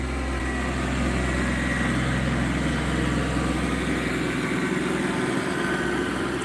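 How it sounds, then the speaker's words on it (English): A small garden yard tractor's engine runs steadily in a low, even idle drone, close by and continuous with no talking. "A wee little garden tractor,"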